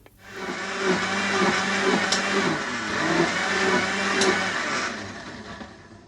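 A kitchen blender whirs steadily as it purees cooked tomatoes, a loud close motor hum holding for several seconds before winding down.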